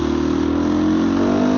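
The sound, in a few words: supermoto motorcycle engine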